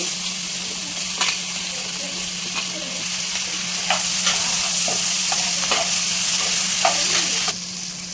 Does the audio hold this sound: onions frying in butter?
yes